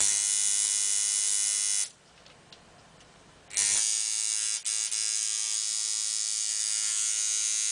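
A coil tattoo machine, its spring tension just adjusted, runs with a loud, steady electric buzz. The buzz cuts out for under two seconds, then starts again and carries on without a break.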